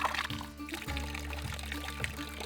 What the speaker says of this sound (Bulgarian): И чешма в близост, от която сега ще пия вода.